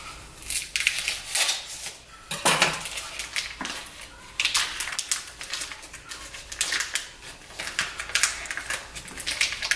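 A kitchen knife slices through the plastic packaging on a pack of ground bison, with scraping, crinkling cuts that come in several close bursts and run for about ten seconds.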